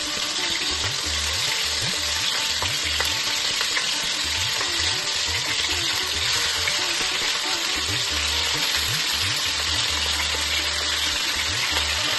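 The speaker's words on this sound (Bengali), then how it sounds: "কড়াইয়ের তেল ভালোভাবে গরম হয়ে গেলে একে একে মাংসের পিসগুলোকে আমরা ছেড়ে দিচ্ছি কড়াইতে আর ভালোভাবে ভেজে নিচ্ছি।" Chicken pieces for a desi chicken curry frying in hot oil in a kadai, a steady dense sizzle running throughout with occasional low bubbling pops and soft clinks, close and continuous, no voices.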